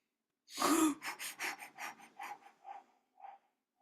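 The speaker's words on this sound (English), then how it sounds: "you're going to hear me breathing for a little bit" Close, deliberate breaths with no voice, one long heavy intake followed by a series of shorter rhythmic exhales that fade gradually, as in a grounding or breathing exercise.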